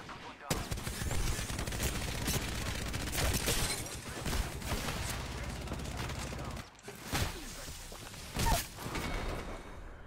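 Devotion light machine gun firing in Apex Legends, a long sustained burst of rapid shots that spins up and rattles continuously, then a few short bursts after a brief pause, with a voice talking faintly underneath.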